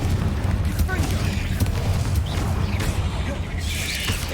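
A Confringo blasting spell in Hogwarts Legacy, heard as booming, rumbling blasts with crackling debris over a constant low game din, punctuated by a few sharp cracks.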